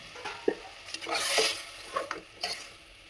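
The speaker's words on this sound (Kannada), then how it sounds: "ಈಗ ಬೇಳೆ ಹಾಕಿ ಕಾಯಿಸಿರೋದನ್ನ ಹಾಕೊತಾ ಇದ್ದೀನಿ" Boiled dal with tomato poured into a sambar tempering and stirred in a pot, giving soft sizzling with several short clinks and scrapes of stirring, fairly quiet and with no talk.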